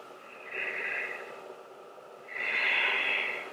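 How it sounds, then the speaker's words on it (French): Two long, audible breaths during a yin yoga side-stretch pose, a slow inhale then a fuller exhale, close and fairly soft, with no talking. "Faites 5 respirations."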